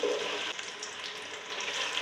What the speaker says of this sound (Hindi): प्याज डालती हूँ मैं।